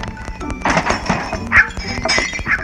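In the video game Dog Simulator, a dog smashes a table, with a quick run of thuds, knocks and clinking breakage over a few seconds.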